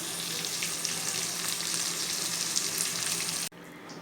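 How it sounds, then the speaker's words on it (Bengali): Pieces of pointed gourd (potol) fry in hot oil in a pan with a steady, dense crackling sizzle, close and continuous with no talk, dipping briefly near the end. "পটলগুলো ভাজা হয়ে গিয়েছে আমার এবার আমি পটলগুলোকে নামিয়ে নেব"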